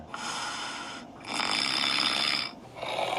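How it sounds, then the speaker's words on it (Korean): Loud recorded snoring played back from a phone or speaker inside a capsule hotel sleeping pod, two long rasping inhalations and the start of a third, with no talking. "유튜브에서 이렇게 코골이 소리, 역대급 코골이 뭐 이런 거 있잖아요."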